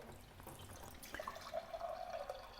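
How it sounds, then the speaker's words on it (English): Water runs from a valve on a home water filter system, a faint steady flow that picks up into gurgling and dripping partway through, recorded close in a quiet room. "I'm just going to turn this valve, I'm going to get the water from it"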